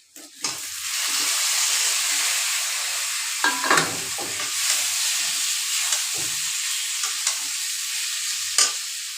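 Green plantain and potato pieces dropped into hot oil for a potato, plantain and stinging catfish curry, giving a loud, steady hissing sizzle with occasional scrapes and clinks from stirring.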